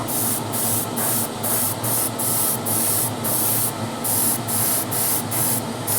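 Short bursts of primer from a spray can hiss onto small model car engine parts for an Alfa Romeo Tipo 33/2 kit, a rapid, even rhythm of about a dozen close, loud pulses.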